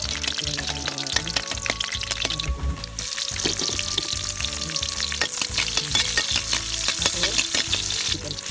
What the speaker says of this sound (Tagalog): Iwain natin ang bawang natin.